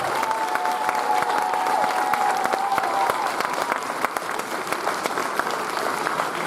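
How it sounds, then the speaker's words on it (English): An audience of families and grandparents at a school Grandparents Day event gives a steady, lively round of applause, with some faint cheering mixed into the dense clapping throughout. "Let's give them one more round of applause."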